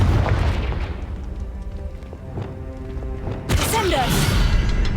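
Game magic in Hogwarts Legacy: a Confringo spell crackles and then bursts into a loud, booming fiery explosion near the end, following a rumbling stretch of combat sounds with a voice heard.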